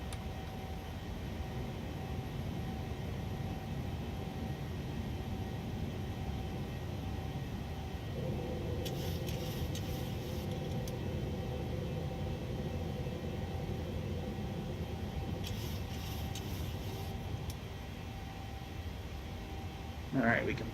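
Steady jet engine roar of a PMDG 737 climbing after takeoff in Microsoft Flight Simulator 2020, a constant cockpit rumble and whine with brief mechanical clunks and a voice speaking over it.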